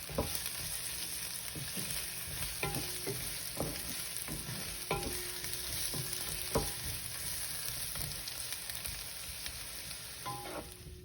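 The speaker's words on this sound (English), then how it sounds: "I'm going to just let the paste cook with the onions for about a" Ginger garlic paste cooking with onions in a pan for vegan haleem gives a steady, soft sizzle. Occasional light clinks and stirring scrapes sound above it, and nobody talks.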